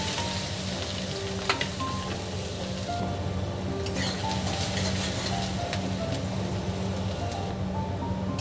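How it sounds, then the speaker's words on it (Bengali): Chopped onions fry in hot oil for ghugni, a loud continuous sizzle with occasional metallic clinks of stirring throughout. "আমার চারটে পেঁয়াজ আছে দিয়ে লাল করে ভেজে নেব"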